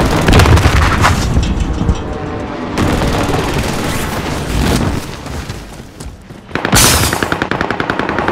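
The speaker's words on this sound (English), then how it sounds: "Throwing frag." A frag grenade explodes in a Call of Duty match with a loud, close boom, surrounded by bursts of automatic gunfire and a second sharp blast near the end.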